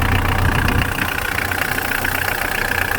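A Mitsubishi L200 engine idles steadily just after starting, a continuous close-up mechanical hum with an even, slightly rough low-end pulse and no talk over it.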